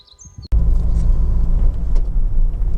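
A 2012 Honda Civic 2.2 i-DTEC EX diesel five-door on a road test gives a low, steady engine and road rumble that starts abruptly and stays loud and near, after a brief quiet start with faint birdsong.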